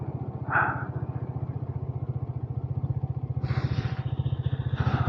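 A motorcycle speeds along a road near Makhanpur, its engine a steady, loud, rapid pulsing thrum close by, with brief bursts of wind or clatter over the top and no talking.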